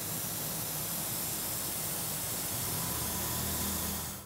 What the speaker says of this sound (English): So I want to spray over everything using this pearlized white.